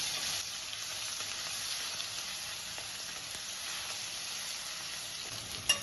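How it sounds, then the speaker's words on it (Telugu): Ginger garlic paste and turmeric fry with golden brown onions in a pan for green pepper chicken, making a soft, steady sizzle with faint stirring and one brief clink at the end, alone and close. "ఆనియన్స్ గోల్డెన్ బ్రౌన్ కలర్ వచ్చిన తర్వాత జింజర్ గార్లిక్ పేస్ట్, పసుపు వేసి ఫ్రై చేయాలి"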